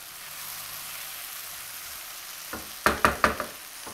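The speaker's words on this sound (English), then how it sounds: "sliced tomatoes" Sliced tomatoes dropped into a hot frying pan for curried zucchini. A soft background sizzle gives way to a burst of sharp, crackling spatters, several in quick succession near the end, close and loud, with no speech.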